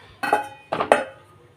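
A few metallic clanks close by: a sharp clatter, then two more quick knocks as a lid settles onto a cooking pot, with a faint ringing afterward.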